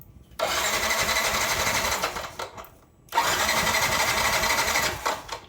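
A Yamaha NMAX V1 scooter engine cranks over repeatedly without catching, a steady whirring starter run that stops briefly and then resumes for another long attempt, close and loud.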